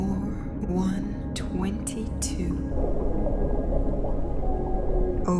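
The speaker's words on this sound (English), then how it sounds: "The great whales welcome you." Whale calls, long rising and falling moaning tones with sweeping high squeals, echoing underwater over a steady low wash of sound.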